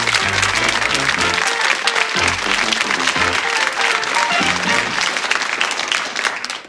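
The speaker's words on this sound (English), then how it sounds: "Give them a nice warm round of applause." Studio audience on the television game show Bullseye gives loud, sustained applause for arriving contestants, while a music sting with low tones plays underneath.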